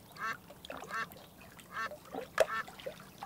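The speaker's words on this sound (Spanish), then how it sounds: "También oigo graznidos de pato y agua." Ducks quack in a series of short nasal calls at a farm with water, with a louder call near the middle and bursts spread evenly across the clip.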